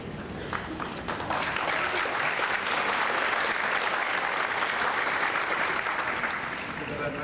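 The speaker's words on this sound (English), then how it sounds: "Give that nice round of applause" Sustained audience applause at an orchestra concert during a holiday movie-music program, a dense, steady wash of many hands clapping that swells in just after the start and holds evenly throughout.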